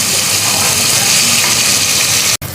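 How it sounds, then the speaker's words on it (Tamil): Tomatoes fry in oil in a pan for a drumstick-leaf dish, making a loud, dense, continuous sizzle close by that cuts off sharply near the end. "தக்காளி நல்லா எண்ணெயில் வந்து ஃப்ரை ஆகணும்"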